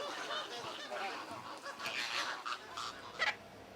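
A hand-reared flamingo chick calls in a series of faint, hoarse, honking cries, irregular and eager, with a sharper squeak near the end.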